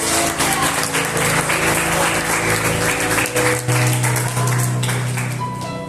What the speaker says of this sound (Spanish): Cuando demos un fuerte aplauso al Rey de Reyes